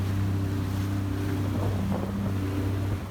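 A boat motor drones steadily on the water, with wind buffeting the microphone and a constant rush of waves around it.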